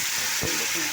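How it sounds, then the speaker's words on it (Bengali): Fish laid into hot oil in a pan sizzles loudly and steadily, a dense continuous hiss with a brief low thump partway through. "বন্ধুরা, এবার আমি মাছটাকে দিয়ে দেবো।"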